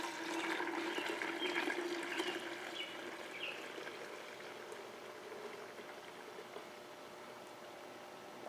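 Sanitizing water emptied from a fermentation container gushes and splashes steadily, loudest at first and then settling into a softer, continuous trickling pour with no talking.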